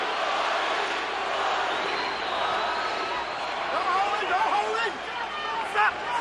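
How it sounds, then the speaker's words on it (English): A large crowd at the Shane Mosley vs Fernando Vargas boxing match roars and chants for Mosley in a big arena, a loud continuous mass of voices with a few louder shouts near the end. "Mosley fans in the crowd begin to chant for Shane."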